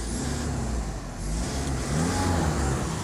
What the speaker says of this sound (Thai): เสียงเทอร์โบนี่ออกปลายแบบเต็มๆ